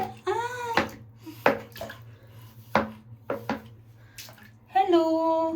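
Water splashes in sharp, separate bursts as an 83-day-old baby girl is bathed, with cooing baby sounds and an adult voice in between.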